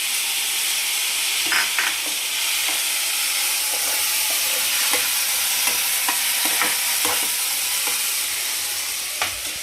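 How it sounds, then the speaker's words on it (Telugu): Quartered tomatoes fry in a pan with dried fish, giving a steady close sizzle throughout, broken by scattered clicks and scrapes as the pan is stirred. "ఇప్పుడు నేను ఇందులోనే ఒక ఫోర్ ఫోర్ టమాటోని ముందే కట్ చేసి పెట్టుకున్నా వేసేస్తున్నాను"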